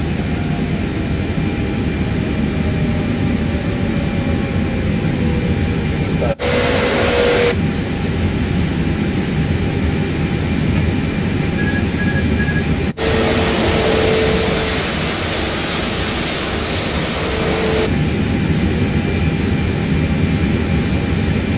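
Airliner engines drone steadily on approach in Microsoft Flight Simulator 2024, a constant loud cabin-like rumble with brief cockpit clicks and a couple of short chimes.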